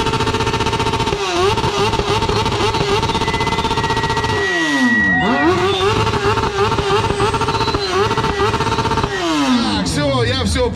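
A Jawa motorcycle revs hard through a loud exhaust at a moto fest loudest-exhaust competition, its engine rising and falling through repeated throttle blips close by, continuous and dominant, with crowd voices beneath.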